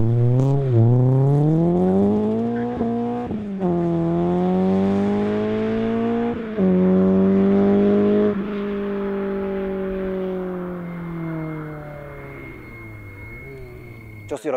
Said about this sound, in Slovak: Naozaj ten 2 liter má veľmi taký charakteristický zvuk.